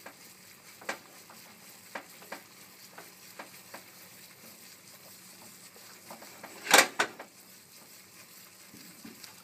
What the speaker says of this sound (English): You always want to keep stirring.